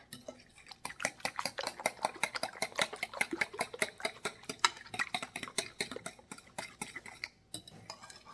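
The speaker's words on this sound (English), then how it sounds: "So I got to get this nice and stirred up." Egg mixture for French toast whisked briskly in a bowl beside a flat top griddle, a steady rapid clinking and tapping rhythm of utensil against dish that keeps going the whole time, fairly close.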